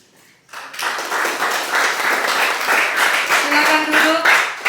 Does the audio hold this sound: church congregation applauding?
yes